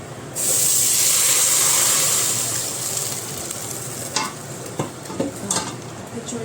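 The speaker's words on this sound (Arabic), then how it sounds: "شويه شوربه نخليها تغلي بقى." Soup poured into a hot pot hits with a loud, close burst of sizzling hiss that gradually settles into a softer simmering crackle, broken by a few clinks and stirring knocks near the end.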